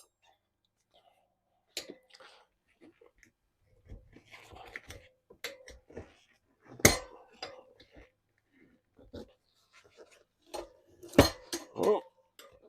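Metal tire spoons work a Dunlop D606 tire in scattered bursts of clinks, scrapes and knocks, some close and sharp, with quiet gaps between and faint talk now and then.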